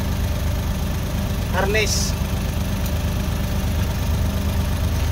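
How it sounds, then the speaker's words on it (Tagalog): A Suzuki DA63 mini truck with a K6A engine keeps idling after the key is turned to off because of faulty wiring. The engine hums steadily and close, with a brief sweeping electrical whine and a short spoken word. "hanggang ngayon ay naka-andar pa rin ang makina kahit naka-off position na ang susi."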